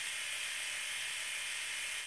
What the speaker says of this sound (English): At around 59 decibels, the shaver is also one of the quieter ones we reviewed.